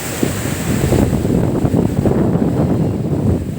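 Stormy surf at Pamana Beach House in Calatagan, Batangas, during a typhoon. Heavy waves crash in a continuous roar, and strong wind buffets the microphone throughout.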